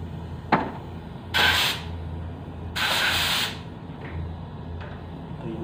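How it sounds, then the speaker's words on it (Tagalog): A spray gun spraying automotive lacquer paint gives two close, loud hissing bursts of about a second each, separated by a pause and framed by faint clicks of the gun trigger. "yung buga ng pag-spray ko, labas lahat"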